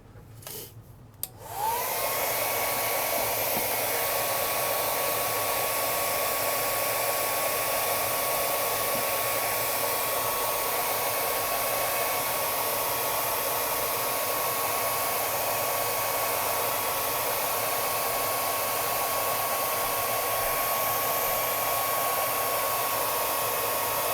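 A heat tool warms the adhesive under a cracked iPhone screen. A click is followed by a steady, even blowing whir with a faint high whine that runs unbroken to the end.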